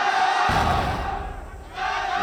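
A crowd roars and cheers at a CrossFire esports quarterfinal at the 2025 Esports World Cup: a dense, loud wall of voices that swells sharply after a quiet start, dips briefly, then rises again.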